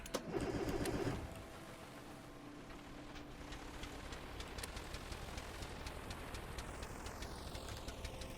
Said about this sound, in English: We have 1 engine, and we try to put power through this propeller